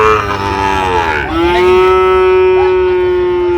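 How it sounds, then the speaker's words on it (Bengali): A single Sahiwal cow or bull calf on a farm moos loudly and close, a long drawn-out low call that rises slightly in pitch midway and holds steady to the end. "বেশ সুন্দর গরুগুলো সংগ্রহ করছে সাদত ভাই"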